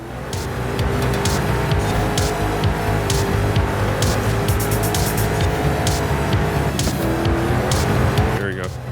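Racing car engine in Forza Horizon 5 held at full throttle, a loud sustained roar with shifting harmonic pitch and rapid gear or tire-squeal textures throughout, a voice talking over it.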